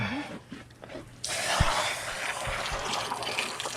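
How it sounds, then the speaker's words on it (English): Tap water runs into the cavity of a freshly butchered Cornish Cross chicken, a faint trickle at first and then a full, steady gush of rinsing water splashing close by. "now I'm gonna give this thing a good rinse inside real quick"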